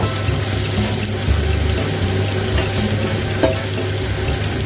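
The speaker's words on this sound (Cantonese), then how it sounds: "跟住落咗啲洋葱落去炒" Onions stir-frying in hot oil in a wok over medium-low heat, a steady close sizzle with a dense hiss running throughout and faint stirring scrapes, no voices.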